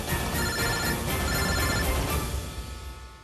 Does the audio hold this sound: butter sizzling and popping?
no